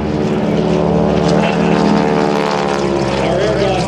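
A polished propeller airplane flies at an air show with a loud, steady engine drone and buzzing prop tone that shifts slightly in pitch, heard under a commentator's voice.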